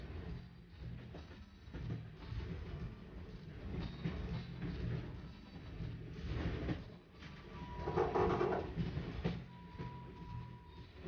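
Passenger train on a northbound journey out of a city and through suburbs around the Great Lakes, Canada, 1992, giving a steady low rumble and rattle of cars rolling on the rails, with faint clicks and a brief tonal whine partway through.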